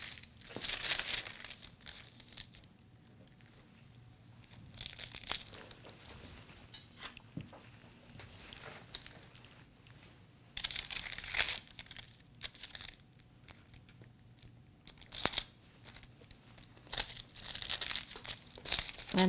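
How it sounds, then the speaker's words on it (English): Paper sewing pattern is folded in half, giving close, intermittent crinkling and rustling in bursts with quieter handling between them. "So let's fold this pattern in half."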